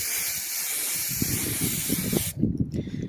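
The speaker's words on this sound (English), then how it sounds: "Make sure it's spraying good." An aerosol spray paint can sprays in a long steady hiss outdoors that cuts off abruptly, followed by gusty wind buffeting the microphone.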